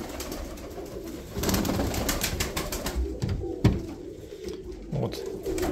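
Uzbek pigeons coo softly in a heated winter loft, low repeated cooing rising and falling near the microphone with some shuffling and background rustle, no talk.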